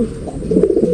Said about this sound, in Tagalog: Ang laking ibon na ito mga kalapatids.